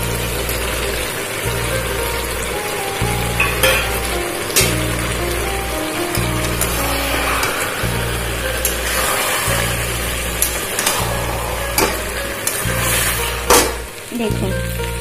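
Hilsa fish heads hit a pan of frying Malabar spinach, and a steady sizzle and crackle runs throughout. Occasional clanks of a stirring utensil break in, and a low hum from a gas stove sits beneath.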